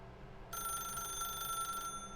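A telephone rings in the video game The Stanley Parable Ultra Deluxe, a bright electronic trill starting abruptly after a short pause and sustaining clearly before cutting off, with no speech.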